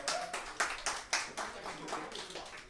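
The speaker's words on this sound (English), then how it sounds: "Let's give a round of applause for Adam." A small audience claps at an evening presentation in a hall, with a few distinct louder hand claps rising out of a light, short patter of applause.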